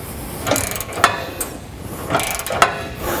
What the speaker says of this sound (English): You gotta get up into the nuts all the way at the back of the bumper, and a really long extension is helpful to get past the side brackets.